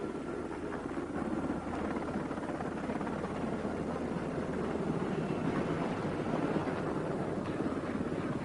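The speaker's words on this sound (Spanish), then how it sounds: "El helicóptero llevaba sus equipos y regresaba." Military helicopter carrying troops' equipment, a steady loud rotor and turbine roar with wind noise, continuous and unchanging throughout.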